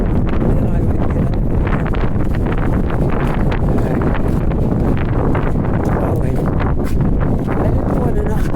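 Strong wind buffets the microphone on a very windy day walking through Halifax's North End, a loud, constant low rumble with gusting rustle and no pauses throughout.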